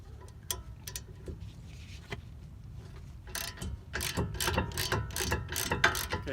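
Ratchet wrench with a 15mm socket working a brake caliper bolt on a Mustang GT with Brembo brakes, giving rapid close clicking bursts that grow louder and busier in the second half.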